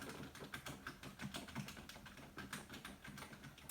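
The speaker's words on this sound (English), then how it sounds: "As I'm typing it, it does not feel clicky at all. It feels linear, very silent, as you guys can hear." A Ducky One 2 TKL mechanical keyboard with Cherry MX Silent Red linear switches is typed on continuously, giving soft, muted, rapid keystrokes at an even pace, fairly quiet and close.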